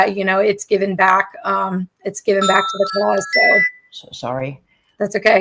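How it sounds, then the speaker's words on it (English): A phone alarm goes off as a short run of bright electronic chime tones, heard under ongoing conversation between people. "that's my alarm going off"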